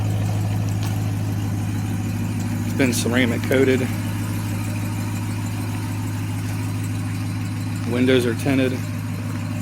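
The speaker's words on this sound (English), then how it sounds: "I believe it's a factory exhaust. It just sounds really good." A white 2022 Dodge Ram 1500 TRX crew cab with a supercharged 6.2-liter V8 and factory exhaust idles nearby with a steady deep rumble, while someone talks over it in two short bursts.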